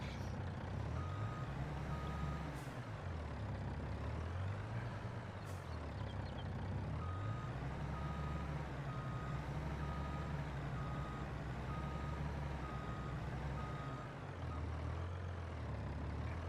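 Truck reversing beeps repeating steadily while backing up a short trailer in Farming Simulator 22, over a constant low diesel engine drone that swells and dips, with a couple of brief sharp hisses.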